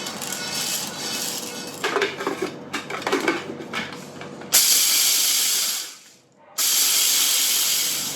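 An electric chopper grinding black pepper for burgers whirs with a loud, harsh hissing roar in two bursts separated by a brief pause, after quieter kitchen clatter.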